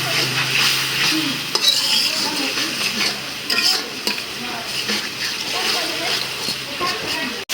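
Spice paste of ground coriander, salt and ginger-garlic paste being stir-fried in oil in a pan, a steady close sizzle with scraping and stirring sounds running throughout, under a voice talking.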